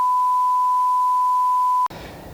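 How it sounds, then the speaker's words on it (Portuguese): A single steady electronic tone holds for just under two seconds, then cuts off abruptly into soft room noise. "Depois do bip."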